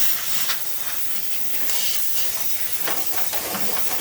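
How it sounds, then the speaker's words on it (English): Fluid Film rust protection is sprayed through a spray tip onto a 2016 Ford Super Duty. Sharp, close aerosol hissing comes in several uneven bursts and spurts. "you can just spray that right in here and coat that whole thing"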